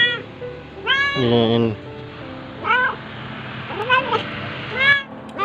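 A thin, hungry orange cat, abandoned at the roadside, meows repeatedly, short and insistent cries at close range, with a person's brief voice and steady background noise.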